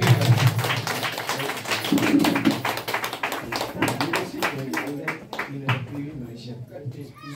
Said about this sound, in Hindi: अपने लिए जोरदार ताली बजाइए आप लोग